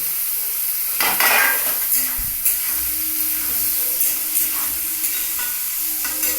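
Chopped carrot and capsicum stir-fried for fried rice, with a constant hiss of hot oil and a few clinking spatula knocks against the pan, close and steady with no talking.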